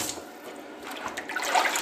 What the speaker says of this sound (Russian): Нужно хорошо смыть всю кровь, потому что сазан рыба такая с красным мясом, крови много